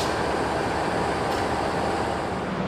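The Kamandaka train, hauled by locomotive CC 206 13 75 out of Semarang, rumbles steadily from inside a carriage, a loud continuous roar of running gear and air noise with no break.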